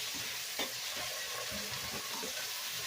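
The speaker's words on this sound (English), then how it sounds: "Now I'm going to put my potatoes in" Potatoes fry in olive oil, a steady, faint, continuous sizzling hiss with a few soft stirring knocks, heard alone without speech.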